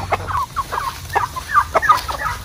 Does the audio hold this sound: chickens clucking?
yes